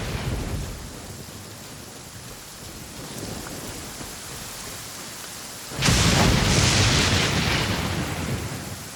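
Thunder rolls through a rainstorm: steady rain hiss with a low distant rumble, then a sudden loud crack and long booming roll.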